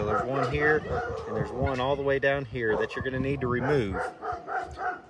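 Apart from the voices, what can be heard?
dogs barking on a country property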